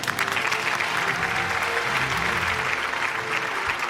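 Dense, steady audience applause fills the hall at an annual city news network award show, honouring award winner Shahid Sipra as best employee, sustained and loud throughout without a break.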